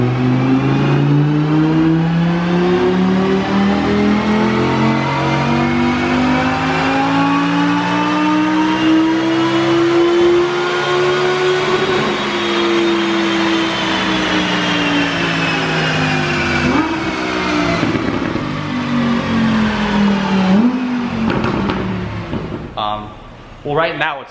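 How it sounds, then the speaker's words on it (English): A stock 2017 Audi R8 V10 non-plus engine drones loudly and steadily, its pitch climbing and then falling back in a long sustained rev. "this car right here, a stock 2017 R8 V10 non-plus"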